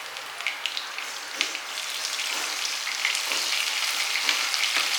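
Biryani gravy with coriander and mint fries in a pan, giving a dense, steady sizzle with small crackles and pops, close and continuous with no voices.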